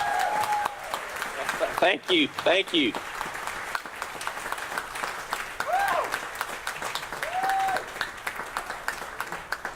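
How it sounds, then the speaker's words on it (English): Applause from a crowd at an outdoor U.S. Senate candidate stump stop in Florence, South Carolina, rising in bursts under a speaker's amplified voice, with thanks spoken over the clapping. "Y'all give a round of applause"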